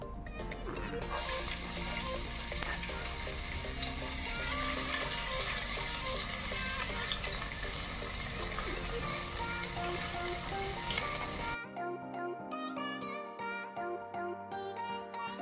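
Ginger sliced into hot cooking oil for a mung bean dish cooked with coconut milk, giving a loud, continuous sizzle and crackle close by. Partway through the sound shifts to a sparser sputter.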